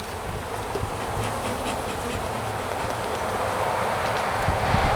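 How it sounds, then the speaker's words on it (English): Bees buzz steadily in a densely packed, opened three-deep hive during a spring inspection, a close, continuous drone with no break throughout. "Decent amount of bees in there."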